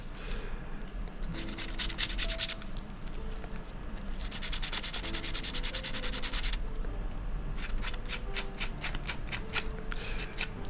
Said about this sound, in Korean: 지금 80방으로 면을 정리를 하고 있는데요.